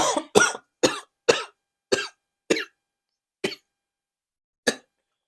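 A series of eight sharp, separate coughs, closely spaced at first and then spreading out with longer pauses, loud and close with no talking.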